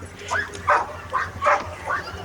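Several dogs, one of them a golden retriever, exchange a run of about five yapping barks at a steady pace, moderately close, with people talking and greeting outdoors in Oregon underneath.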